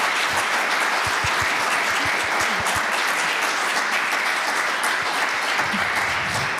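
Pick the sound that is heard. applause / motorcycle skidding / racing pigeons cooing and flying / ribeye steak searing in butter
applause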